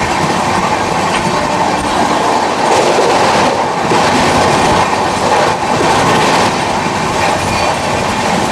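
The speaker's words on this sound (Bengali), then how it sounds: "পাঁশকুড়া থেকে খড়গপুরের মধ্যে আমাদের এই ট্রেন ননস্টপ চলবে 45 কিলোমিটার" Samudrakanya Express train running nonstop between Panskura and Kharagpur, a loud, steady rumble of wheels and carriage noise with rhythmic clatter, continuous throughout with no talk.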